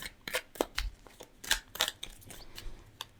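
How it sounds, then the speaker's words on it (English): Tarot cards are shuffled by hand, giving a quiet, uneven series of crisp papery riffles and taps close by, with no talking. "So I'm shuffling the cards"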